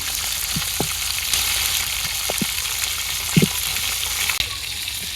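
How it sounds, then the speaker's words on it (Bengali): Rice and tomatoes fry in hot oil in a village kitchen, a steady close sizzle running throughout, broken by a few soft clicks of stirring. "কোনো সিদ্ধ করবো না একেবারে তেলের মধ্যেই চাল টমেটো দিয়ে দেই"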